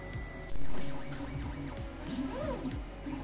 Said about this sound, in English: The motors are noisy, so it's hard to work close to this printer.